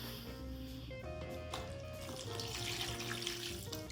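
Water runs steadily from a tap into a container during a hobby kit build, a continuous close, soft trickle and splash lasting the whole few seconds with no one speaking.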